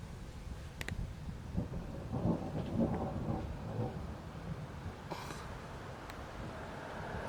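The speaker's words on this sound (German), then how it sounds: "Und das blitzt und donnert wie verrückt." An evening thunderstorm under a shelf cloud brings low rolling thunder rumbling through steady rain and wind noise, with a few sharp crackles, heard outdoors without talking.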